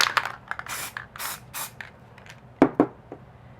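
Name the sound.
graffiti spray paint can spraying through fat nozzle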